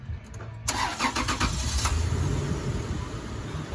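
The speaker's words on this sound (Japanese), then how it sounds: "エンジンかけます。" A Toyota Land Cruiser Prado engine cranks briefly and catches, then settles into a steady close idle hum with no talk.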